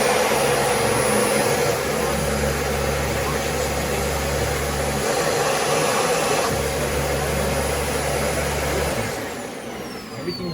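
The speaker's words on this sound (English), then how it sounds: "So the vacuum is fully up and running" A Dyson DC40 Animal upright vacuum cleaner runs steadily after a roller ball repair, a loud continuous motor whine and airflow roar with a pulsing low hum, easing slightly near the end.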